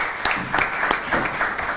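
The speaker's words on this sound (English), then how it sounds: "let us give him applause for Dr. Ted Brett to start the talk" Audience applause welcoming Dr. Ted Brett to start a talk on political and economic reform in Egypt, a brief, steady round of clapping from a crowd with a few sharper claps standing out.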